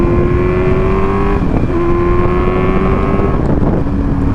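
Motorcycle exhaust captured by an action camera mounted right beside the pipe: a loud, steady engine drone with strong tonal harmonics. The pitch dips briefly around a second and a half in and again near three and a half seconds. No talking.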